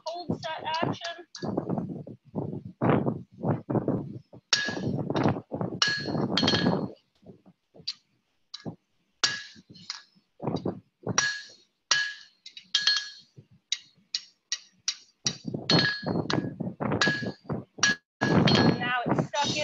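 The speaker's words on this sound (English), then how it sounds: "I just put it in there, do a little cold set action." Forged box-jaw tongs in a blacksmithing demonstration take a run of sharp, ringing hammer blows setting a cold rivet, struck near and loud in quick bursts, with speech between the strikes.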